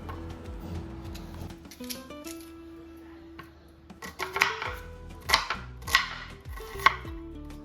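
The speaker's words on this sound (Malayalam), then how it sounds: "ഇനിയിപ്പോൾ തക്കാളി ചട്നി ഉണ്ടാക്കാൻ വേണ്ടിയിട്ട് ഉള്ളിയും തക്കാളിയും ഒക്കെ ഒന്ന് കട്ട് ചെയ്തിട്ട് എടുക്കുകയാണ്" A knife chops onions and tomatoes on a board for tomato chutney: a few soft cuts at first, then a run of sharp, close, evenly spaced chops growing louder toward the end.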